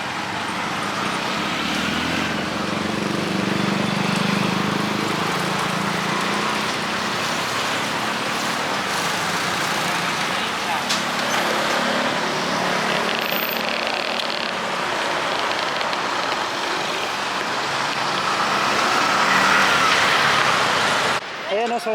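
Road traffic rushes steadily along a bypass road in Buhangin, Davao City, with cars and larger vehicles passing as a continuous roadside roar and some talking mixed in.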